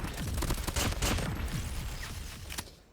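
Rapid bursts of USS 9 gunfire in a video game, a dense rattling stream of shots that holds steady for about three seconds and then thins out, with no talking over it.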